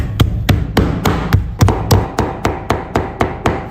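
Cleaver chopping a chunk of fatty-and-lean pork into coarse mince on a board, a steady series of about fourteen sharp, loud thuds at a regular, quick rhythm, heard alone.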